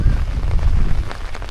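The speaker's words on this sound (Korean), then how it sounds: "빗방울이 쏟아지기 시작합니다" Rain pattering steadily during a walk along a lakeside deck trail near a small village, a dense, close hiss of drops with a low rumbling undertone and no talk.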